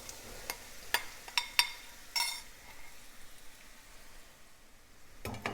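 Paruppu usili is stirred into cooked banana flower in a pan, making a few sharp spatula knocks and scrapes over a faint background hiss, with quiet stretches between them.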